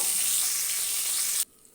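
Hilsa fish heads fry in hot oil in a kadai, giving a loud, dense, hissing sizzle that runs steadily and then cuts off abruptly near the end, leaving near silence. No one speaks.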